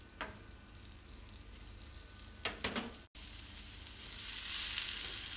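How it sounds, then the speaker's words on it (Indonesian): Chopped onion sautéing in margarine gives a soft, steady sizzle with a few brief stirring scrapes, briefly cut off midway and then swelling into a brighter, louder hiss toward the end. "Tumis bawang bombay sampai layu, nanti disusul dengan bahan-bahan yang lain."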